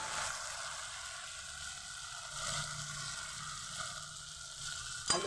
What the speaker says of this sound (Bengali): আলুগুলো দিয়ে কিছুক্ষণ নাড়াচড়া করে কষিয়ে নেব